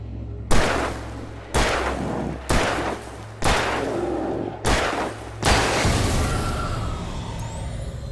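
Six loud gunshots from the video game Alan Wake fire in a steady, evenly spaced series, each a sharp close crack with a brief decaying tail, the last one ringing out longer.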